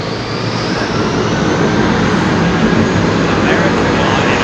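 An airliner taxis at Heathrow Airport, its engines producing a loud, continuous broadband rumble and hiss that stays even throughout, with some talk mixed in.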